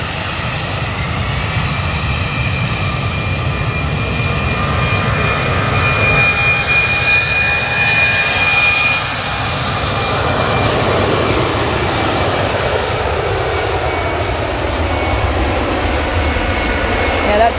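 A jet airliner's engines roar steadily at Manchester Airport, a broad, loud rumble that swells and holds throughout while people talk nearby.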